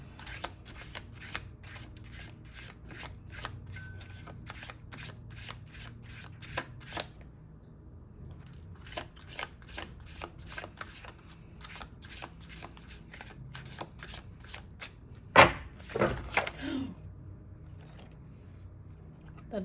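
Tarot cards riffle and shuffle in a steady run of crisp, close flutters and taps, pausing briefly before a louder burst of slapping cards near the end; no talking.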